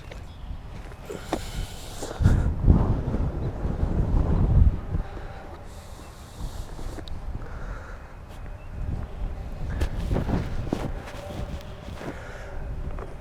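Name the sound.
strong wind blowing on microphone outdoors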